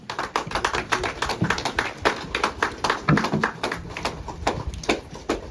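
An audience claps to welcome the chief guests and dignitaries arriving at the inauguration of a campus building, brisk uneven hand claps close by that continue throughout, with no talk.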